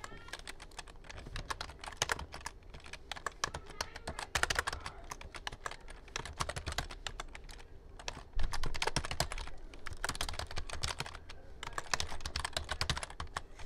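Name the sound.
typing on a computer keyboard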